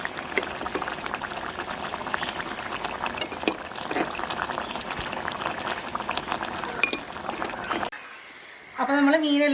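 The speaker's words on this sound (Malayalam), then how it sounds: "അപ്പോൾ കറി നന്നായിട്ട് തിളച്ച് തുടങ്ങി കണ്ടോ" Kottayam-style mackerel curry with kudampuli bubbles at a boil in a pot, a busy close simmer with clinks, then a sudden drop to near quiet before a brief tonal sound at the end.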